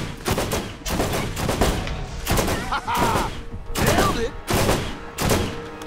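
Rapid, sustained gunfire in the video game Borderlands, with dense bursts and heavy thumping shots packed closely together; a voice talks briefly over the shooting.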